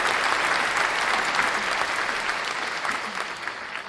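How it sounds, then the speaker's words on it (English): A burst of applause from many hands, dense and steady, then tapering slightly toward the end. "That's worth a clap."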